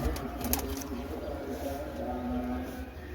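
An old female pigeon kept by a pigeon fancier in Ropar, Punjab, coos softly over a steady background hum, with brief clatter near the start and no clear separate calls.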